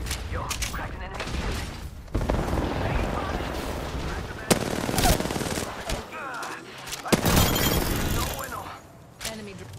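Bursts of automatic gunfire and scattered shots in the battle royale game Apex Legends, loud and dense for stretches, with someone talking over the combat.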